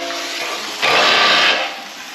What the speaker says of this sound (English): Flushing the boat after using it.